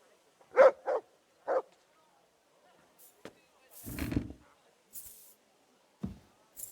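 A dog in the medieval game Kingdom Come: Deliverance 2 gives three short, close barks, then quieter scattered yips and whimpers follow, with rustling and soft thumps between them.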